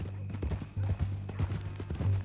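Horse hooves clip-clop at a steady walking rhythm in Red Dead Redemption 2, close and clear over a low ambient hum with no talking.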